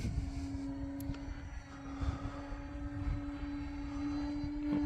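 E-flite Ultra Stick RC airplane flying on a windy day, a steady electric motor whine droning at moderate distance with wind noise rumbling underneath and no talking.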